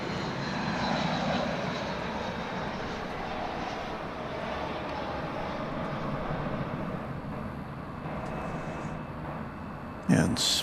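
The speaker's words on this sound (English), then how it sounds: "We got a flight coming in from Los Angeles." A Spirit Airlines jet arriving at DFW airport rumbles in the distance as a broad, steady engine roar, with a brief sharp knock near the end.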